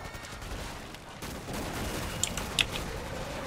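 Rapid overlapping gunfire from the co-op zombie shooter Killing Floor 2, a dense continuous barrage at moderate volume with a couple of sharper bursts near the end.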